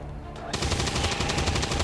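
A gunshot burst in XCOM 2, a short quiet lead-in giving way to a loud, sustained crackle of rapid fire lasting over a second.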